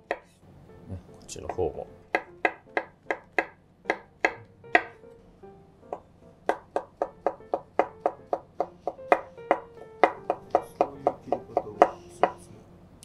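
A knife chops an onion on a board in a long run of sharp, evenly spaced taps, close and clear, pausing briefly midway; a few quiet spoken words come at the start.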